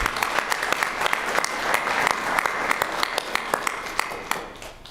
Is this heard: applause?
yes